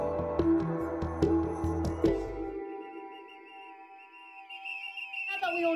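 Several whistles blown by supporters at a rally shrill in quick repeated blasts over a rhythmic backing, then one sustained tone lingers before the whistles fade out.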